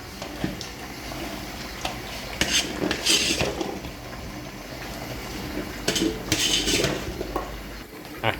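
Metal utensils scrape and clink against a pot of simmering Thai green chicken curry in irregular bursts, with a low bubbling simmer underneath and no talking.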